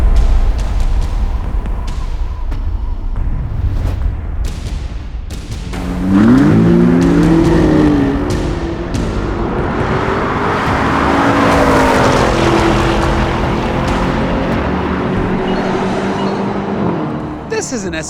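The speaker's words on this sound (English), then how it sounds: "Once it hooks up, the Aston actually pulls harder than the Porsche does" An Aston Martin DBX 707 and a Porsche Cayenne Turbo GT launch side by side in a drag race, engines roaring and climbing through the gears loud and close, with tire noise and someone talking over it.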